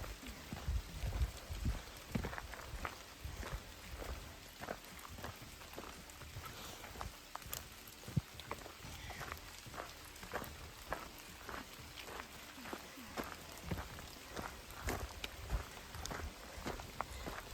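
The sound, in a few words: rain falling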